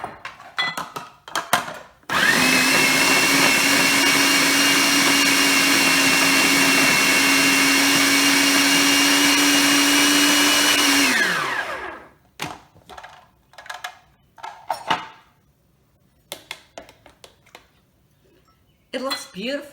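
A blender purees mango sorbet with unsweetened almond milk in one loud, steady run of about ten seconds, then winds down. Brief clinks and handling noises come before and after.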